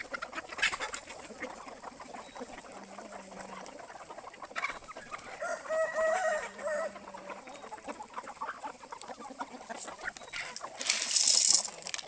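Chickens cluck and a rooster crows during a morning feeding of corn on a small egg farm, with scattered close clucks and pecking patter, short calls rising and falling and a louder burst near the end.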